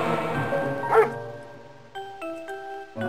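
A cartoon dog barks in the Freddi Fish maze video game: a short yappy bark near the start over game music, followed by chiming tones.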